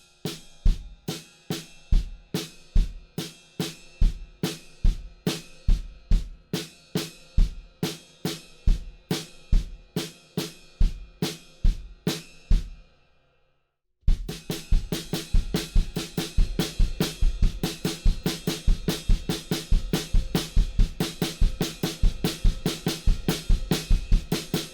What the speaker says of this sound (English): we're going to join that riff with the kick drums and the snare drums and the ride cymbal with a pattern that sounds like this